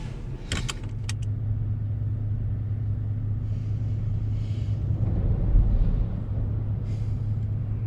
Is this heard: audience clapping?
no